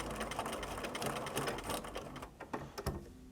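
Sewing machine stitching a tiny invisible applique stitch, a steady close mechanical whir and rapid chatter that slows into separate clunks and stops near the end, with no talk.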